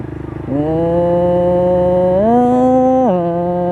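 A motorcycle engine with a worn clutch lining idles with a sputtering start, then revs up steadily, holds, dips and rises again before settling back to idle, loud and close.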